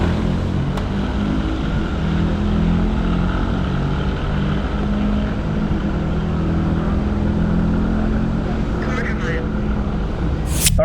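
A twin turbo drag race car launches down the strip with a loud, sustained engine roar that holds steady for about ten seconds, heard from inside or close by, with a sharp burst of noise at the very end.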